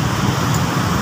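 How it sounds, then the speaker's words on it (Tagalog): Steady, dense road traffic at night on C5 in Manila heard from a vehicle in the jam, a continuous broad rumble and hiss of engines and tyres with no distinct events. "Traffic pa rin."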